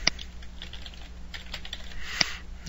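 Computer keyboard typing nearby, a short run of light clicking keystrokes with a couple of sharper taps.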